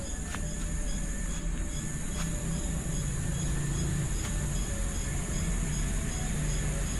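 Crickets chirp loudly at a campsite in Real, Quezon, a dense continuous trill with sharp clicking calls over a constant outdoor background hiss, no talk.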